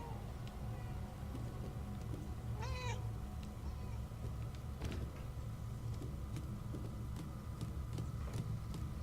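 Cat meowing in the video game Murdered: Soul Suspect, a single short wavering meow rising above a constant low rumbling ambience, with scattered faint clicks and taps around it.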